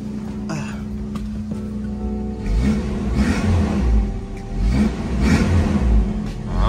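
A warmed-up 1989 Toyota Corolla engine idles roughly, then revs in several rising rumbling surges. The engine runs unevenly and misfires, as if from a bad spark plug, heard close and loud.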